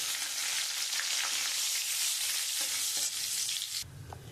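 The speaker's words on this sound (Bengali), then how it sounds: "আমি ওর মধ্যে শুকনো লঙ্কা আর জিরে ফোড়ন দিয়ে দেবো" Dried red chillies, cumin seeds and a bay leaf crackle and sizzle in hot ghee, a steady bright hiss with faint stirring that drops away abruptly near the end.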